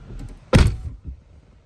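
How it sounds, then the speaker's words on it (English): A Tesla Model 3 or Y door shuts with a single solid thunk, carrying a faint metallic rattle from the fitted retractable window shades, followed by a softer knock a moment later. "when I'm closing the doors, I do hear some kind of a metal noise"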